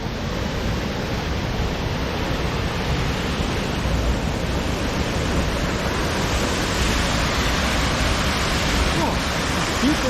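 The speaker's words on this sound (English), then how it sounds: "And another beautiful waterfall." Waterfall in the Wood of Cree forest, a steady, loud broadband rush of tumbling water filling the whole stretch with no break, heard close and alone.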